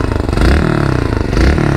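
Yamaha YBR 125 motorcycle engine revving nearby, a loud, rough mid-pitched engine note rising and falling in two quick throttle blips with a clattering pulse.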